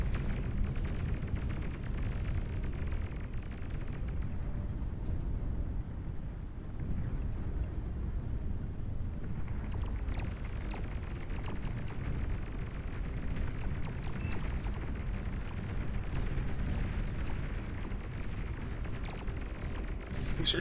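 Explosions and gunfire from the real-time strategy game Beyond All Reason, a dense, continuous rumble of booms and rattling shots running the whole time at steady loudness, with the game's announcer voice sounding over it.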